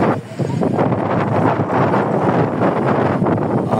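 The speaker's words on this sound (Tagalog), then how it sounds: "Dinig niyo yung hangin." Strong wind blows outdoors near a lake at roughly 20 to 30 mph, a steady loud roar buffeting the microphone with gusty fluctuations and no clear talk.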